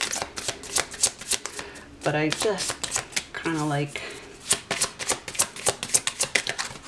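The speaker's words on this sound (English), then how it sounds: "this deck is not meant to be shuffled this" Tarot or oracle cards being shuffled by hand in quick, crisp riffling bursts, close and loud, with a person talking over the shuffling at points.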